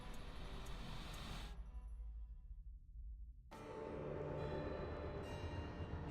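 Train running in the video game Alice: Madness Returns, a steady broadband rumble that drops away almost to silence for about two seconds, then returns at full level with bright metallic ringing tones above it.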